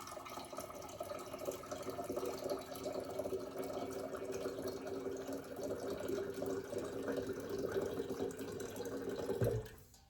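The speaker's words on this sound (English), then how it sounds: "I'm gonna fill this with water." Tap water pouring steadily into a wide-mouthed jar, a continuous mid-level gush that holds for about nine seconds before an abrupt clunk and stop near the end.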